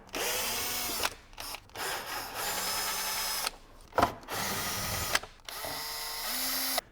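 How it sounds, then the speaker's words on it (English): Power driver undoing Torx T25 bolts on a Mercedes GLC engine cover, several separate whirring bursts of a few seconds each, close and loud, with short pauses between bolts. "you need to use a Torx T25 and undo all these bolts"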